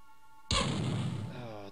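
A single sudden pistol shot from the video game Terror From The Deep, a sharp crack that rings and fades, after quiet tonal game sound, with a voice nearby.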